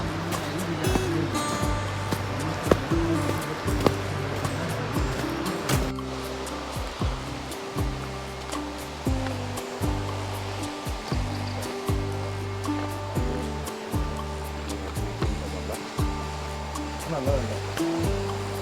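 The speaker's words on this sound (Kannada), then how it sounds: "ಫಾಲ್ಸ್ ಇಲ್ಲೇ ಇದೆ ಅಂತ ಅನಿಸುತ್ತೆ ಮೋಸ್ಟ್ಲಿ" Hebbe Falls, 12 km from Kemmangundi, roars as a steady broadband rush of falling water. The wash holds level throughout, with faint tonal sounds running beneath it.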